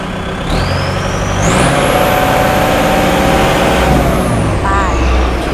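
A used Kubota L5018 tractor engine runs loud and close, with a steady rumbling drone and a rising whine partway through. No one speaks.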